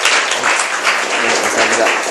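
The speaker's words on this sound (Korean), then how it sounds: "큰 박수로 환영해 주시기 바랍니다." Seminar audience applauding to welcome a speaker: dense, steady clapping from many hands throughout, loud and close.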